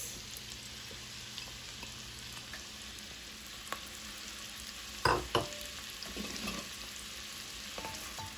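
Celery, onion and carrots sautéing in a pot for chicken gnocchi soup, a soft steady sizzle with a few clinks and scrapes of stirring around the middle, close and fairly quiet.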